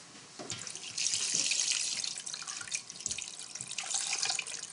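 Hot duck fat is poured slowly over duck legs laid out for confit, making a continuous liquid trickle and splash that swells and eases, close by with no voices.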